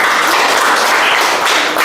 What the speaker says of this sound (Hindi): इनके लिए एक जोरदार ताली होना चाहिए।